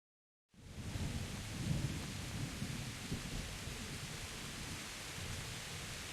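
After a moment of silence, heavy rain pours steadily while deep thunder rumbles beneath in Kingdom Come: Deliverance, constant and enveloping.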